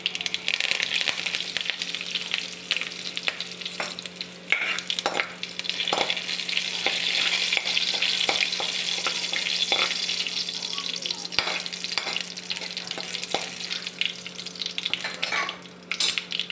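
Curry leaves frying in hot oil, giving a continuous bright sizzle with scattered crackles and occasional utensil clinks, close and steady.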